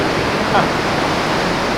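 Ocean surf along the Hawaii coast roars as a loud, continuous wash of broadband noise, waves blending into one steady rush with no distinct breaks.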